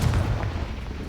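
A Confringo spell blast in the video game Hogwarts Legacy, a deep rumbling boom that rolls on for about a second, loud and close with no talk over it.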